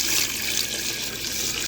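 Water is poured into a soup pot of broth for purple sweet corn soup, a steady, close, full-bodied rushing splash that continues without pause and stops abruptly.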